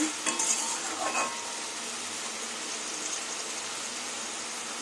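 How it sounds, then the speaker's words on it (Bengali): Boiled red amaranth greens stir-frying in a pan, a steady close sizzle and crackle throughout with a few stirring scrapes near the start, no voices. "এখন এইভাবেই শাকটা ভেজে নেব"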